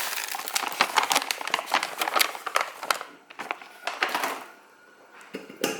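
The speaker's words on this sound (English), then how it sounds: "Just going to tip it into" A 500-gram packet of dry buckwheat kernels is tipped into a bowl, giving close, loud bursts of pattering and rattling grains with crinkly packet noise and a brief lull.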